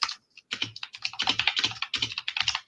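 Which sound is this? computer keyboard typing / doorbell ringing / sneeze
computer keyboard typing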